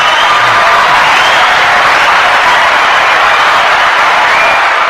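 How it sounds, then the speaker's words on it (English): A studio audience breaks into sustained applause on a talk show, a dense steady wash of clapping that holds at full volume from start to end with no voices over it. "We'll give you a round of applause for that"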